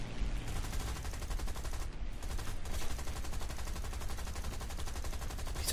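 Rapid machine-gun fire from aircraft in the combat flight game War Thunder, a dense continuous rattle of shots lasting several seconds with only a brief break, steady and fairly loud.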